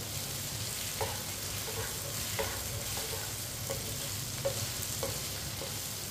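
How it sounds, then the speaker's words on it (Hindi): Okra frying in a pan and stirred with a spoon: a steady close sizzle throughout, with sharp spoon clinks and scrapes against the pan roughly every second. "इसे चम्मच चलाते हुए फ्राई कर रहे हैं।"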